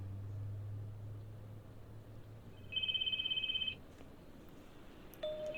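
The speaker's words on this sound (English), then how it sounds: "Oh, I hear the ringing." A phone rings once with a short electronic trilling tone in the video game Spirit Hunter NG, fairly loud over a quiet hum, followed by a brief beep.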